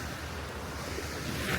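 North Sea surf washes onto the beach at Skagen, Denmark, a soft, continuous rush of waves heard from a distance and mixed with light wind noise across the microphone.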